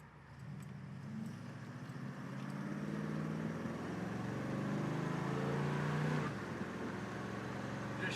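A 1969 Chevrolet Camaro convertible accelerates on the road, its engine note climbing steadily in pitch as it speeds toward 60 mph, then dropping abruptly at a gear shift; steady, fairly quiet interior engine drone.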